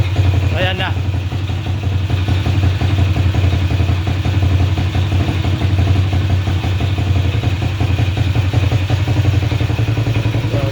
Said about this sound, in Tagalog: so yun yung tunog ng ating uh, TMX 155